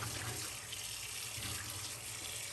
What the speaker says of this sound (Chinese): 处理好以后，用清水清洗干净。